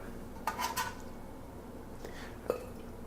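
Ladle skimming fat off brown beef stock in a pot, with a few soft metallic scrapes and clinks, one brief cluster early and a single knock later, faint and close over steady background hiss.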